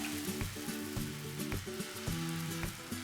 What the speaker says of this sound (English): half a ladle of batter on the pan